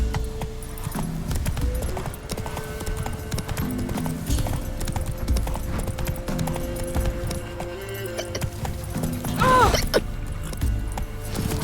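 Hooves of Roach, a horse in the Witcher 3 video game, beat a steady clip-clop rhythm under game music and ambience, with a short brighter burst near the end and no talk.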